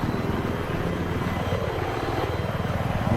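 Helicopter in the video game Battlefield 3, a loud continuous rotor thump with a heavy engine drone, steady and close throughout.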